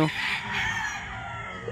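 A gray talisain gamecock rooster crows briefly in its concrete-floored pen at a game farm in Tanauan, Batangas, a short, close call that fades quickly.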